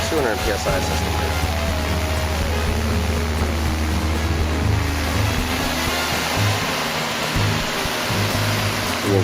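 A 200 psi high-pressure misting system sprays fog with a continuous loud hiss mixed with a low machine hum, and someone talks over it throughout.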